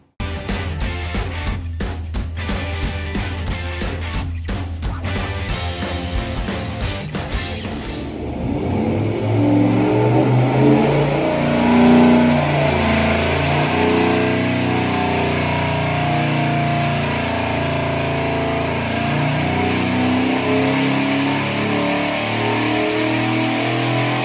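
A Baja 226 sport boat engine runs on a test, revving hard with a pulsing, rough note that smooths into a loud, sustained high-rpm drone; no voices are heard.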